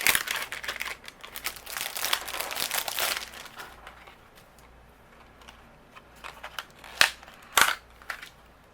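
Paper is die cut into a flower with a coordinating die, giving crinkling and rustling handling sounds early, then a few sharp crisp snaps and clicks, close and moderately loud.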